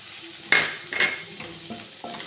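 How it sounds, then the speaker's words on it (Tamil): Masala with onion and tomato, turmeric and chili powder stirred in a pan over a slow flame for tamarind okra curry; a few sharp scraping spoon strokes over a soft sizzle. "இப்போ இதை நல்லா நம்ம மிக்ஸ் பண்ணிக்கலாம்."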